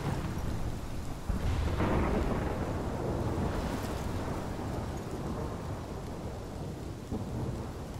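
Heavy thunderstorm in the video game Life Is Strange: a deep rumbling thunder roll builds and lingers over constant loud rain, with no voices.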